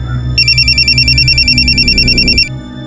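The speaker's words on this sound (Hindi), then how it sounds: "सर, कोमल का फोन था" A mobile phone rings loudly with an incoming call, a fast pulsing electronic ringtone repeating for about two seconds over a low background hum before it cuts off.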